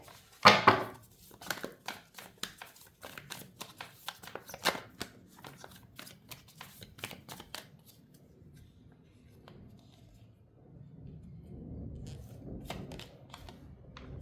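A deck of tarot cards is shuffled by hand, giving soft, quick papery riffles and clicks that come in scattered bursts, close and fairly quiet, fading into a low rustle toward the end.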